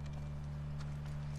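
Faint clip-clop of horse hooves in a few scattered, soft steps, heard under a steady low hum in a quiet scene.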